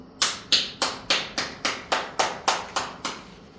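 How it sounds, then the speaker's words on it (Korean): A classroom gives about ten slow, evenly spaced claps in unison, each one sharp and distinct, close by and fairly soft, with no talk. "박수"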